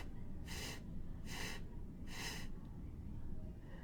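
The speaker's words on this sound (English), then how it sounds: "When you do it incorrectly," Three separate puffs of breath blown close by, each about a third of a second long, with the air fully stopped between tongued notes on a wind instrument, leaving clear silent gaps against low background noise.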